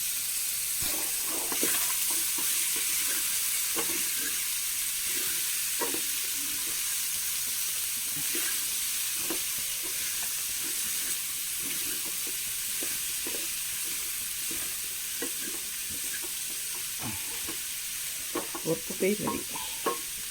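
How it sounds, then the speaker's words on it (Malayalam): Koorka, Chinese potato, is stir-fried in a pan, with a steady sizzle underneath irregular scrapes and clinks of a spoon stirring the pieces, growing busier near the end; no voices. "അപ്പോഴേക്കും കൂർക്കനെ നന്നായി ഇളക്കിയെടുക്കാം."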